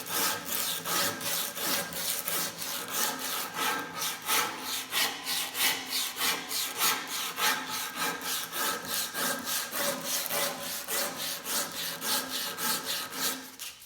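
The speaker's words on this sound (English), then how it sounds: "sanding the edges, and you can do it pretty effectively with a sanding belt" Rapid, rhythmic abrasive rubbing on wooden edges with a sanding belt, roughly three back-and-forth strokes per second, steady and close, with no talking.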